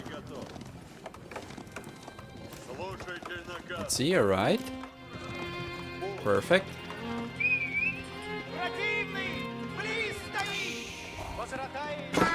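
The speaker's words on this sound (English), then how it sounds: "he's got a lot of horse archers coming out" Horse archers' hooves galloping in the real-time strategy game Age of Empires IV, a quick clip-clop patter with whinnies mixed into battle effects, heard under a caster's steady commentary.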